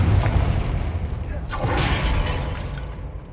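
A Confringo blasting spell explodes in Hogwarts Legacy, a loud, dense burst of crackling, shattering debris with a heavy boom that swells mid-clip and then trails off, with no talk over it.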